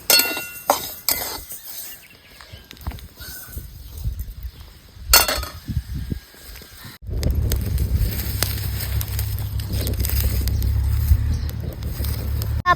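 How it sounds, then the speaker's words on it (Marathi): Niger seeds (karal) roast in a dry pan: sharp scattered clinks and ticks at first, then a dense, steady crackling that runs loud and close to the end. "जसं तडतड वाजायला लागलं की मग समजून जायचं आपलं कारळ भाजले"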